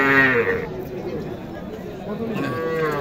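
Native bull calves at the Mahadebpur cattle market in Naogaon low and moo nearby, one call at the start and another near the end, amid people talking and market chatter.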